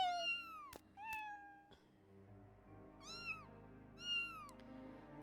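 Kittens in the Final Fantasy 7 video game meow in a run of high, clear calls, close and distinct, with short pauses between them and no talking.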